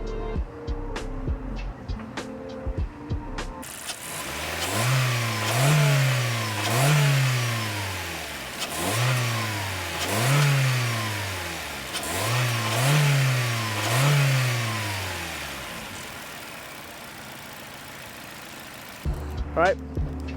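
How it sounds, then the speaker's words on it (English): A brand-new Toyota Corolla LE's 2-liter four-cylinder engine, 169 horsepower with automatic transmission, is revved close up in about six rising-and-falling sweeps, mostly in pairs. The sweeps follow a quieter idle, and a brief voice comes at the end. "This is a 2-liter 4-cylinder engine, making 169 horsepower"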